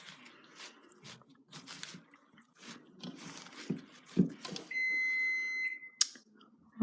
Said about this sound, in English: I just heard my timer go off.